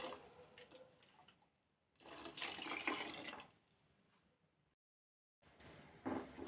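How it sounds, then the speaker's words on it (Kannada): Water poured into a cooking pot of fresh field bean sambar, heard as a few separate bursts of splashing and trickling separated by short pauses, fairly quiet and close. "ನೀರು ಹಾಕೋಣ ಎಷ್ಟು ಬೇಕೋ ಅದಕ್ಕೆ ಅಳತೆ ನೋಡ್ಕೊಂಡು"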